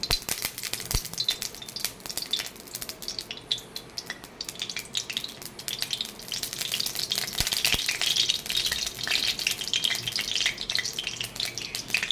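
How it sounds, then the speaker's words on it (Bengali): Oil heats in a hot wok with a continuous, fairly quiet crackling sizzle, with scattered sharper pops and no talk. "এখন আমার কড়াই গরম হয়েছে, আমি কিন্তু তেল দিয়ে দেবো।"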